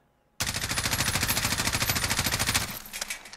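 An M4 SOPMOD Block II rifle with a 3.25x scope fires a sustained full-auto burst of about two seconds in Call of Duty Modern Warfare, rapid evenly spaced loud shots followed by a brief fading tail.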